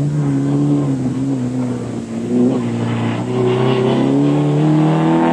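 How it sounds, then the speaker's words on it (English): A 1600cc Toyota rally car engine drones loudly on a stage of the 1987 Circuit of Ireland Rally, its pitch wavering and climbing as the car revs and pulls away, heard close and continuous without talk. "shadowed by the spectacular Graham Middleton in his 1600cc Toyota, just 10 seconds behind"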